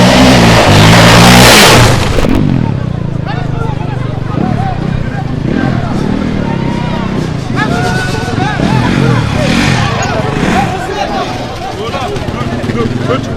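A quad bike revving among a lively street crowd, engine whining and surging loudly at first, then rising and falling under busy overlapping voices and chatter.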